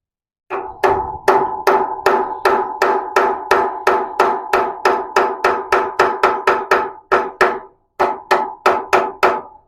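Rapid, steady metallic hammer strikes on a seized motorcycle rotor bolt ring out close by, over two dozen blows in a fast even rhythm with a couple of brief pauses.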